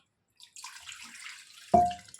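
Water splashes and trickles steadily into a bowl while making homemade ghee, followed by a sharper, louder pour or splash near the end.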